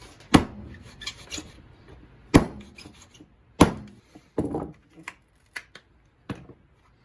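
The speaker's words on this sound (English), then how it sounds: "cut my rawhide into pieces and get that in our mess tin" Tough, unsoaked rawhide being cut into pieces with a knife for hide glue, heard as a few sharp rasping cuts spaced irregularly, with quieter scraping in between, close up and without speech.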